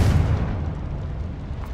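The Confringo fire-blasting spell explodes in Hogwarts Legacy inside a mine, a loud low boom at the start that decays into a rumbling roar fading over nearly two seconds, with no voices.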